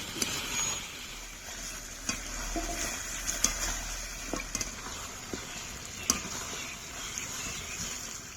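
Chicken curry with potatoes is stir-fried in a pan, producing a soft, fairly quiet steady sizzle with scattered clicks and scrapes from a spatula.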